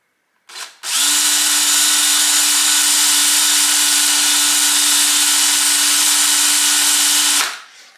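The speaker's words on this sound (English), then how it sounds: "So we're just going to go ahead and drill those out." A power drill bores out the hex nut recesses in the magnesium cover of a Husqvarna 555 chainsaw, one loud, steady whine of about seven seconds that starts and stops abruptly, close up with no talk.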